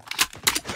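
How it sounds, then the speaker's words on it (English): Magazine reload in the mobile shooter Call of Duty Mobile, a quick sequence of two or three close metallic clicks and clacks in a short burst. "Changing mag!"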